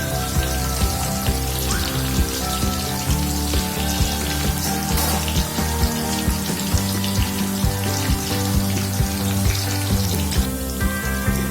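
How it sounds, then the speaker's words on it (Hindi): Sweet potato fries frying in a pan over a slow to medium flame, giving a steady, dense crackle and patter that runs evenly throughout, close and fairly loud, with no talking. "अब हम इसे स्लो टू मीडियम फ्लेम पे इसे हम फ्राई होने देंगे"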